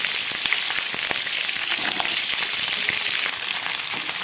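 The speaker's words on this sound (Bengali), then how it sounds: "আমি সব সবজিগুলো একসঙ্গেই ভেজে নিচ্ছি।" Pointed gourd and mixed vegetables fry together in hot oil in a large pan. A loud, constant close-up sizzle crackles throughout with scattered popping spits.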